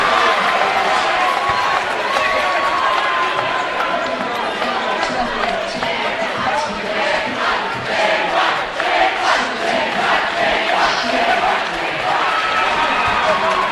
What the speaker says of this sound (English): That gets the Montgomery crowd fired up.